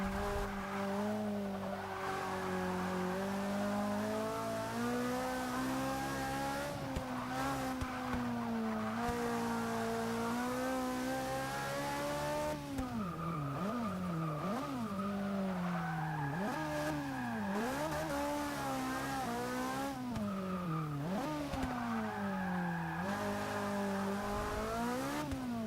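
A 1992 Lancia Delta HF Integrale EVO races in Forza 6, its engine droning loud and steady with repeated rising and falling revs through gear changes and cornering, tires squealing at times, with no talk.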